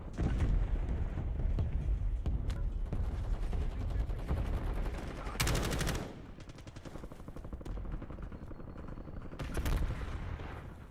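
Repeated gunfire from a video game shooter, with bursts of automatic fire and sharp blasts spread through the stretch, loud and close at times, over a constant busy din of battle.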